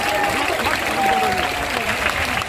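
A large gathering at the Divya Darbar applauds the children, a thick wash of steady clapping with a voice carrying faintly underneath.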